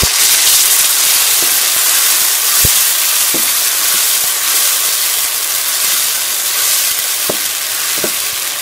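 Tomato puree, made from two large tomatoes, hits onions already fried light golden and sizzles loudly and steadily, with a few faint clicks in the hiss.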